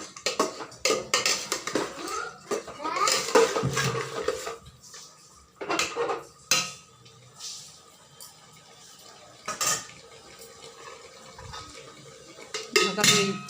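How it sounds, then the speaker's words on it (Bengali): Metal clanks and clatters of a cooking pot and lid while handi mutton simmers with potatoes, several sharp clinks scattered among quieter kitchen handling and faint liquid sounds, close by. "ঢাকা দিয়ে দিচ্ছি।"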